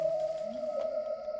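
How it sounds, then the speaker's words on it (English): Whale song plays in a Fireman Sam cartoon as a single sustained, slightly wavering tonal call, loud and steady for the whole moment with no voices. "maybe that whale song's a little too loud"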